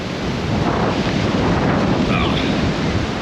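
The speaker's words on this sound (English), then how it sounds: "don't know if you guys can hear me or not with all this wind coming in" Strong wind from Hurricane Nicole roars steadily across the microphone at the beach in Vero Beach, Florida, with crashing surf underneath, loud and continuous throughout.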